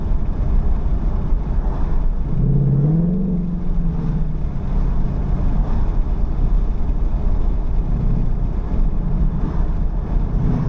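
Ford Mustang GT with 25mm wheel spacers driving on the road and picking up speed, a steady low engine drone with road and wind rumble and a brief rising tone as it accelerates, no talking.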